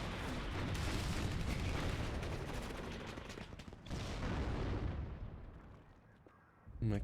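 Battle sounds from the WARNO strategy video game: a dense wash of distant artillery fire and gunfire that rolls on continuously, fades, and ends with one loud close blast.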